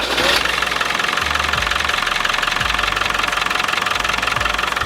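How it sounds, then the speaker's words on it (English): A Land Rover Defender 300TDI diesel engine cranks and catches, then settles into a loud, steady knocking idle that continues without a break. "it's time to start the engine"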